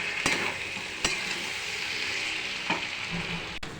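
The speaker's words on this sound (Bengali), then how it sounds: "চিনি দিয়ে ভালো করে নেড়ে চেড়ে নেব।" A mixed vegetable curry with sugar added gets stirred in a pan, a soft continuous sizzle broken by a few sharp scrapes and knocks of the spoon against the pan.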